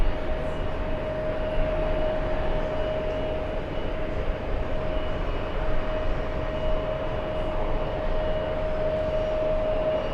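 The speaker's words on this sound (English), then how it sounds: "We have Speedbird, big 777." A British Airways Boeing 777 arriving on a long-haul flight sends a steady, broad jet roar that holds evenly throughout, joined by a constant high whine, with no speech heard.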